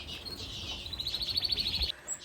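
A young wren, just fledged, gives a quick run of thin, high chirps that repeat rapidly for about a second. The calls are close and fairly clear over a soft background hiss.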